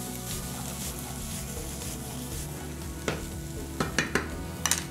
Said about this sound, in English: And some fresh sweet corn. And we're going to saute these up.